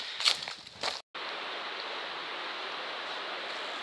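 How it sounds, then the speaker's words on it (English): Broad, steady rush of the French Broad River flowing on the Appalachian Trail near town, a constant wash of water that runs unbroken after a brief scuffle of movement and a short dropout at the start. "Made it to the French Broad River."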